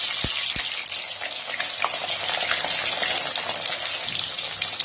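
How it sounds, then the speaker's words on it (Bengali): Paneer pieces fry in hot white oil on high flame, a steady close sizzle with a couple of sharp pops near the start and no talking. "এরপর আমি কেটে রাখা পনিরগুলো দেব।"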